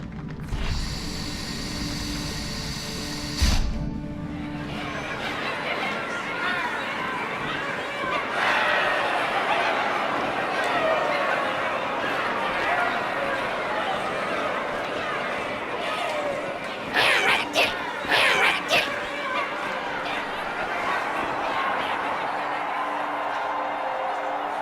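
Crowd chatter from a gathered audience aboard Cairo Station in Halo 2, a steady murmur of many voices running throughout, with occasional louder bursts and clunks near the start and around the middle.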